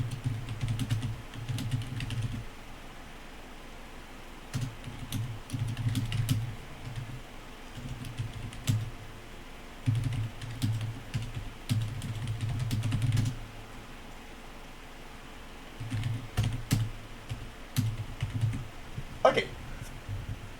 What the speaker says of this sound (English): So I'll just type this in